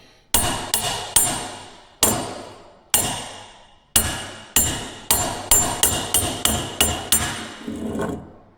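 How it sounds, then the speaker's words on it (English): A hammer taps a bearing race into place during a clutch rebuild on a Caterpillar D4 dozer: sharp, ringing metallic strikes, first spaced, then in a quicker run of blows, close and loud with no talking. "driving a bearing in with a hammer is not the quote-unquote correct way to do it"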